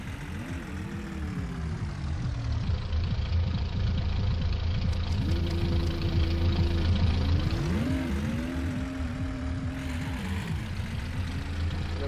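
A van's engine idles in the driving game My Summer Car, a loud continuous low drone with its pitch rising and falling several times as the throttle is blipped, steady and close throughout without speech.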